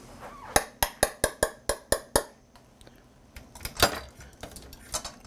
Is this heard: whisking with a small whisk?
yes